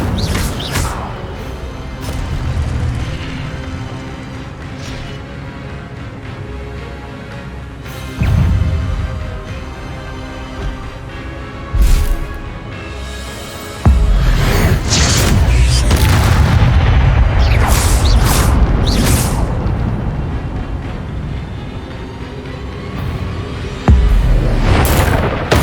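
The Incendio fire spell cast in Hogwarts Legacy: loud booming, whooshing blasts and crackling bursts in repeated waves, with heavy low rumble between sharper impacts.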